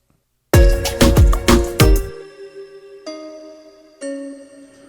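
Music sting built from three automated synth plucks, struck as a quick run of bright percussive hits, then a ringing tail with two softer sustained chords entering afterward; no voices.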